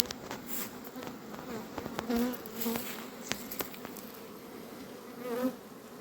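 Honeybees buzz all around at a hive, a busy droning swarm with individual bees whizzing close past now and then.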